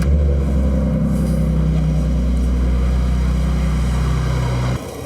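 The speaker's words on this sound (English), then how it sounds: "I'll go ahead and fire it up and see what kind of signal we get" A Ford with a check charging system fault, its engine idling loudly and steadily with a low, even drone before it cuts off abruptly near the end, with no talking.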